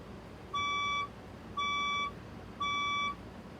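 A red Felicity fire alarm beeps three times at an even pace, each tone a clear, steady high-pitched electronic note about half a second long, sounding alone over faint background noise.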